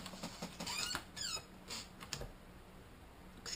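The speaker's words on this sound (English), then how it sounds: "Excuse my squeaky chair." An inexpensive office chair squeaks in a few short, thin creaks as it shifts, soft and close in a quiet room, with faint tapping and rustling.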